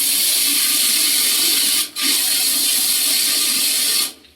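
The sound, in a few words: water flowing through newly installed plumbing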